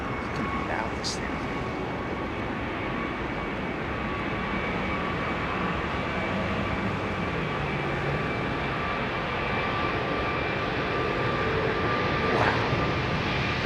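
Steady, loud engine roar with a broad rumbling wash and a high whine from Rolls-Royce jet airliner engines idling nearby at London Heathrow Airport, runway 27R, continuous throughout.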